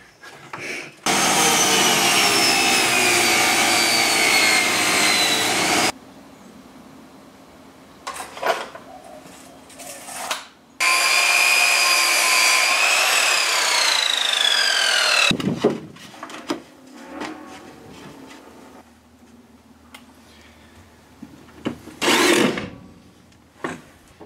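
A grinder runs during a school-bus conversion stair build, with two long, loud, steady grinding passes of several seconds each, separated and followed by quieter knocks, scrapes and handling noises nearby.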